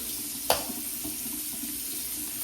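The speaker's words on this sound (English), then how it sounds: "I am going to run a little warm water over it." Warm tap water runs steadily from a faucet over a clear dental aligner, a constant hissing splash with one brief knock near the start, moderately close and with no talk.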